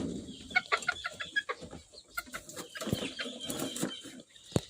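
Several Serama chickens and chicks clucking and peeping in short, irregular bursts at close range while their coop is rearranged, with faint shuffling and handling noises between calls.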